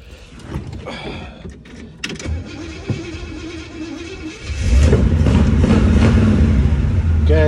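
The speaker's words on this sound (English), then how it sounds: "It's got power brakes, power steering, solid running 283. We'll start it up." A 1965 Chevrolet Impala convertible's 283 V8 cranks and fires up into a loud, rumbling idle through cherry bomb exhaust after some clicks and handling noises, the low exhaust drone continuing steadily.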